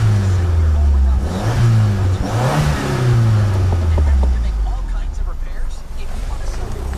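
A 1987 Dodge Daytona Shelby's engine runs near the car, a loud idle hum that rises and falls with brief revs, while a person talks over it.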